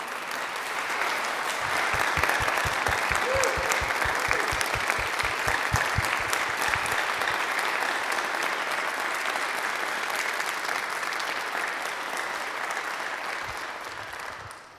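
Sustained, dense applause from a concert audience thanking the Capital University Chapel Choir, steady and full for about fourteen seconds before tapering off at the end.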